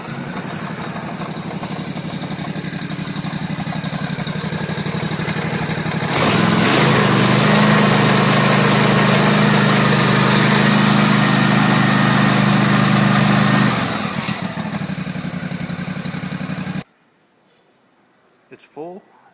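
A small Kawasaki engine fresh from an oil change cranks up and runs steadily, its loud idle rising sharply around six seconds and holding level before cutting off, with a brief muffled voice after it stops.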